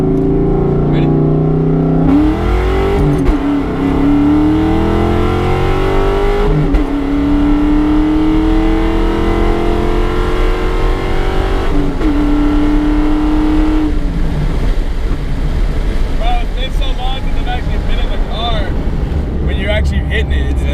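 A car with a knocking engine launches hard in first gear, loud and close, its engine note climbing in rising sweeps through repeated revs and shifts, with people talking over the roar.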